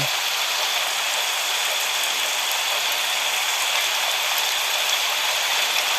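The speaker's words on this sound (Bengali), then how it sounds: "জলের কি আওয়াজ কি হারে জল বলছে মামা" Rainwater rushes along a road in a Kalbaishakhi storm, a dense, loud, unbroken hiss of pouring and flowing water with no break throughout.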